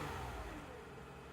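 A Toyota Sienna minivan with 93,000 miles and the AC switched on runs its engine with a steady, faint mid-pitched hum and whir, heard alone with no talking.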